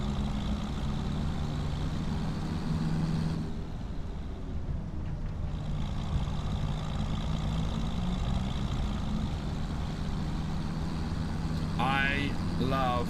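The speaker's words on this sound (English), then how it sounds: "I love the engine sound. I absolutely love the engine sound." A Mercedes-Benz truck engine in Farming Simulator 25 hums at a low, steady idle, with a brief shift in tone midway and a short whirring rise near the end, all fairly quiet.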